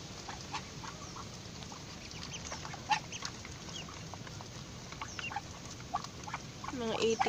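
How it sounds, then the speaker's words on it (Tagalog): Ducks in a backyard mini poultry yard with free-range chickens, giving scattered short quacks and calls over a constant outdoor background, fairly faint, with a clearer call near the end. "Mga itik yan."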